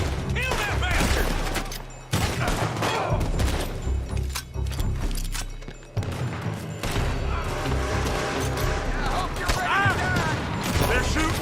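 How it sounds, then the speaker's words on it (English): Rapid bursts of gunfire crack through a Red Dead Redemption 2 shootout, dense volleys and single loud shots over about eleven seconds, with shouting voices mixed in between the blasts. "They're shooting from that building."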